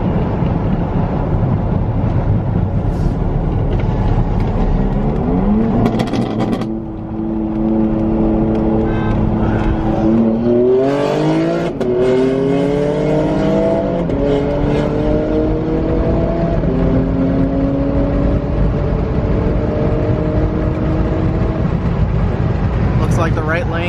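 Two BMW cars run down the road ahead, heard from inside a following C6 Corvette as broad engine and road roar with rising revs around the middle, loud and continuous, with voices now and then.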